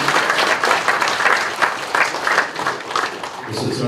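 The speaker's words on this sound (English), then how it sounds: "I just want to give our MC another round of applause" Guests at a 21st birthday celebration give the MC a round of applause, loud and close, dense clapping that swells and holds before tapering near the end.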